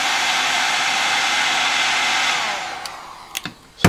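An electric heat blower of about 1,500 watts heats the top of a throwing-weight ball, giving a steady loud, close whooshing roar that cuts off near the end, followed by a few sharp clicks and knocks.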